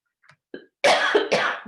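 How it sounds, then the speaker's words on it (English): A few small throat sounds, then two harsh, loud coughs in quick succession, close to the mic. "Pardon me on my coughing there"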